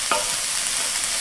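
Beef and cabbage stew cooks on low to medium heat, giving off a steady, hissing simmer with one brief clink near the start.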